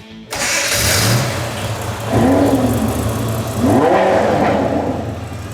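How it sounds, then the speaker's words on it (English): Engines of a Lamborghini and a Model A hot rod crank and fire up, then rev twice in rising surges over a loud, continuous rumble, close and dominant with no talk. "Gentlemen, start your engines."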